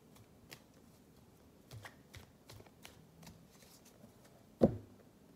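Tarot cards are shuffled by hand before the deck is cut, a soft, rapid riffle of card flicks ending in a louder thump, close and quiet with no talking.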